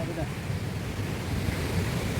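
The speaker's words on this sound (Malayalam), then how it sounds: "തൊമ്മൻകുത്തെ വെള്ളച്ചാട്ടം, അടിപൊളി വെള്ളച്ചാട്ടം" Continuous rushing roar of the Thommankuthu waterfall in forest, broad and steady, with no breaks.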